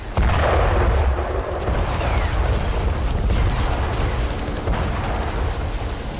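Bomb attacks in the Ukraine war produce a heavy, sustained rumble of blasts and booming gunfire. A loud onset leads into dense, continuous roaring noise with no voices.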